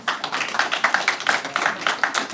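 Audience applause welcoming the speakers and chairperson at a Hindi and Marathi literature seminar session, a dense steady burst of many hands clapping close by with no talk over it.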